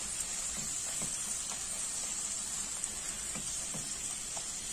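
Masala paste fries in hot oil for a Savaji-style jackfruit seed curry, giving a soft, continuous sizzling hiss with faint occasional pops and small stirring ticks throughout.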